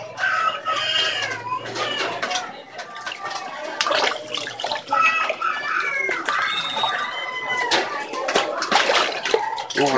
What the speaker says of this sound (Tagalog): Tumatalbog yung tubig